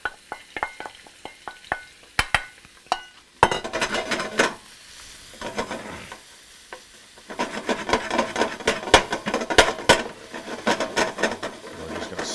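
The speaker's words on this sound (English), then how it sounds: "We're just gonna saute those out." Onions and garlic sauteing in extra virgin olive oil, with a close, loud sizzle broken by repeated scraping stir strokes and clatters that come in bursts and grow busier toward the end, with no talk.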